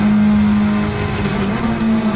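Honda Civic Type R FK2 driving on a track lap, heard from inside as a loud, steady engine drone with a strong sustained tone and slight pitch shifts under load.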